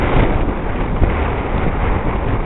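Strong wind roars steadily across an outdoor microphone beside abandoned buildings in Willow River, Minnesota, a constant loud buffeting rumble with brief gusts and no voices.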